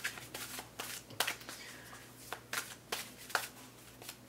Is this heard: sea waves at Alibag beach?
no